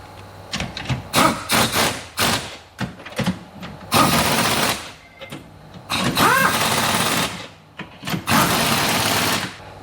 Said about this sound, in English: So we always recommend using impact on them if you can.